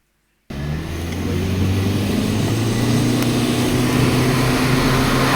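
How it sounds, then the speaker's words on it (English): Steady engine and road rumble from inside a Google self-driving car running a slalom course, starting abruptly after a brief silence and holding a loud, continuous drone throughout. "Let me share with you a quick view of what it's like inside one of these Google cars"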